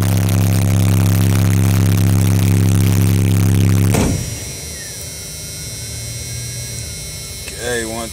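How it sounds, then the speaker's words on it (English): A car audio system with four American Bass 15-inch subwoofers on a stock alternator produces a loud, steady tonal whine and hum for about four seconds, then drops abruptly to a quieter background. "you can hear that alternator is whining"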